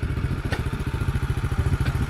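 Engine of an Aveta Ranger Max motorcycle on an offroad trip, running steadily close by with a fast, even low thumping beat and faint clatter, and no voices.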